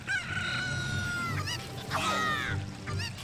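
A cucco chicken from The Legend of Zelda: Ocarina of Time crows and clucks in bright, warbling calls, several bursts in a row, fairly close and clear with a faint murmur beneath.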